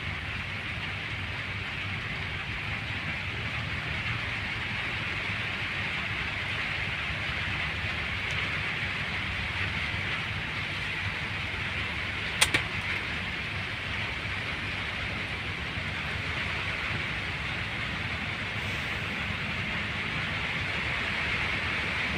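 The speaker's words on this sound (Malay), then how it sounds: "Hujan semakin lebat" Steady, dense downpour of heavy rain hissing continuously, with one sharp brief knock partway through and no voices.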